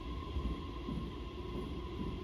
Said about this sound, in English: My train, now pulling in running on the left